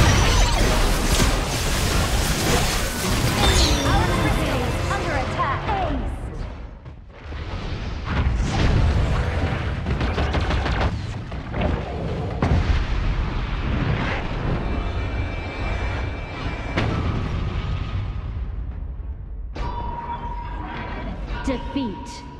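A turret being destroyed in a video game match, with loud booming blasts and rumbling explosions piled over busy game effects, while an announcer voice speaks over the din and the noise thins out near the end.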